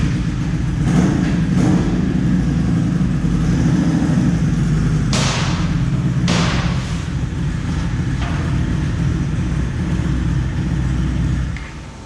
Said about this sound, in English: I'm going to show you how we bring the bike up